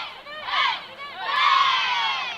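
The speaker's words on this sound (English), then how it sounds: "you can hear their cheer all the way from the media room" Supporters of a women's three-on-three basketball team cheer and shout in two loud surges at a trio invitational final, a crowd of mostly high voices swelling, dipping briefly, then rising again and holding.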